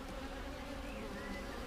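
A honeybee drone trapped in a beehive super buzzes in a steady, low, continuous hum, close but fairly soft, with no voices.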